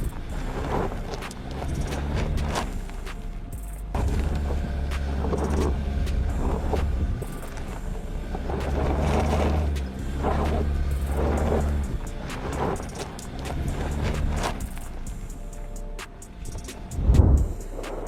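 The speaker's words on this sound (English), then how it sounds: "the Tucson, although it shifts to the right, still moves forward and finishes safely after overcoming this climb with difficulty" A Hyundai Tucson SUV grinding up a steep off-road slope, its engine note rising and falling in strained surges over a constant low rumble, with a brief louder thump near the end and no voices.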